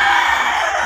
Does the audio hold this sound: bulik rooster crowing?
yes